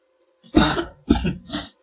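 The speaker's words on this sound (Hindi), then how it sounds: "सॉरी थोड़ी खांसी आ रही।" Three short, harsh coughs in succession, close and fairly loud, with brief pauses between them.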